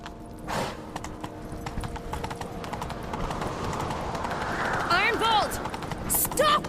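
Rhythmic hoofbeats of a galloping horse in The Witcher 3: Wild Hunt, with game music and effects, ending in a sharp whinny-like cry and a burst of action noise.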